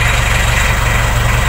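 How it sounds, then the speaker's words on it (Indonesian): A motorcycle engine idles as it warms up, a loud, close, steady low throb with an even rhythmic pulse and no talk over it. "Sekarang berisik, enek motor dipanasi"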